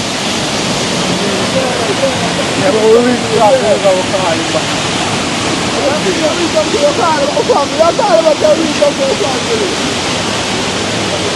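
A river rushes with a steady, loud broadband roar that fills the scene throughout, while people talk over it at close range.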